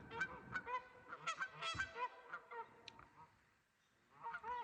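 A flock of geese honking loudly and repeatedly by the Deschutes River at sunset, overlapping calls in a busy rhythm, briefly thinning out before the honking picks up again.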